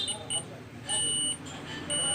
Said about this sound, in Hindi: मल्टीमीटर को बजर मोड में सेट कीजिएगा